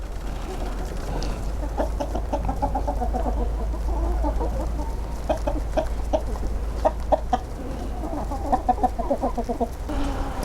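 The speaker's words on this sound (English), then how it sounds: "One happy rooster." Chickens in a hen house cluck in short repeated bursts over a steady low hum, a new rooster among the hens, with a few louder squawks later on.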